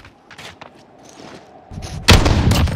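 Gunfire in a shooter video game, a loud burst of sharp shots and booming reports near the end, after a few quieter scattered taps and distant game sounds.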